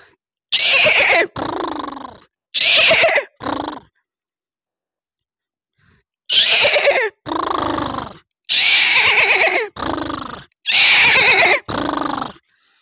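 A person imitates a horse neigh with a voice, giving several loud, shrill whinnies in two bursts separated by a pause.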